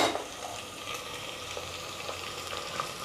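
Mutton boti sizzles steadily in a hot pan while being stirred, a soft continuous crackle of frying with faint scraping underneath.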